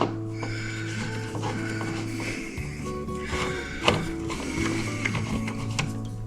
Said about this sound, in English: Now we remove the top and bottom screws here. And you can do that with a screwdriver.